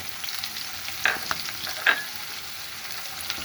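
Onion frying in leftover taro-frying oil in a pan gives a soft, steady sizzle, broken by two short scraping stirs partway through.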